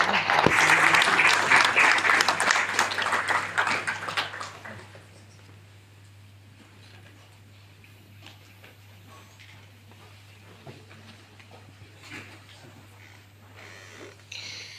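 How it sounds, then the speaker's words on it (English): An audience applauds the Sri Lankan Army, Navy, Air Force and Police at the launch of IRONMAN 70.3 Colombo, with loud, dense clapping that fades after about four seconds into a quiet room with scattered faint sounds. "can we please have a round of applause to the Sri Lankan Army, the Sri Lankan Navy, the Sri Lankan Air Force and the Sri Lankan Police"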